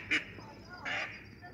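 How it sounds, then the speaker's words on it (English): Ducks honk and quack as they fly past outdoors, two short calls around a moment apart, the second longer, heard fairly close against a quiet background. "that's some ducks flying by."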